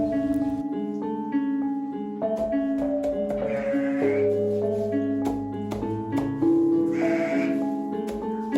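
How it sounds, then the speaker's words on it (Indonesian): Goats bleat repeatedly at a village goat farm that also keeps catfish, the calls overlapping in a steady, close chorus with several loud, strained cries standing out over the herd. "Berikut merupakan peternakan kambing dan lele milik Bapak Supriyono."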